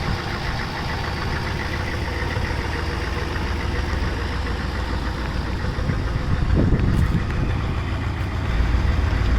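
Cadillac with a swapped-in diesel engine idling through a full factory exhaust with a big muffler, a steady close clattering diesel knock that holds throughout with a slight swell near the end.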